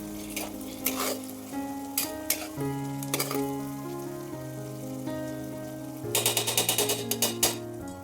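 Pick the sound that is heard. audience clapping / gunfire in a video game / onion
onion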